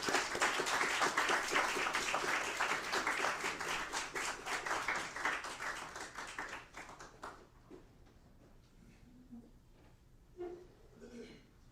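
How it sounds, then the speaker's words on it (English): An audience at an evening concert and film event honoring Martin Luther King claps in a dense, loud round for several seconds, then thins out and fades to scattered claps and quiet room noise. "Let's give him a round of applause."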